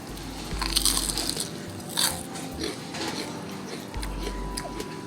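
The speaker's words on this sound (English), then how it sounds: "So here's some skin. I just want you to hear the crunch." Crunchy, sea salt brined fried chicken skin is bitten and chewed, giving a few crisp, close crunches over a faint background hum.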